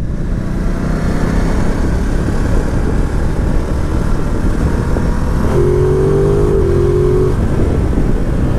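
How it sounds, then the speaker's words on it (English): A 2019 Ducati Multistrada 950 S engine pulls hard on a ride through winding roads in touring mode, a continuous loud drone that rises in pitch late on, with steady wind rush mixed in. "Oh, that engine howls."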